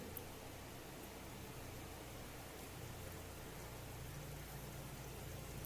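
Balushahi dough pieces frying in oil over a low gas flame, a faint, steady, even sizzle that stays level throughout with no talking.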